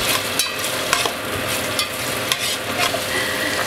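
Ginger and garlic frying in a pan make a loud, continuous sizzle and crackle close by, with scattered scrapes and clicks from stirring and no speech.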